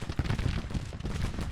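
A short burst of Civil War battle gunfire and artillery from the strategy game Grand Tactician, with thick rumbling reports and overlapping shots packed into a loud moment and no talk.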